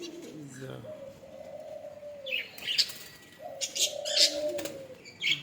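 Small pet budgerigars, kept as a breeding pair, chirping and warbling with bright bursts of chatter and short tones, fairly close and mostly alone.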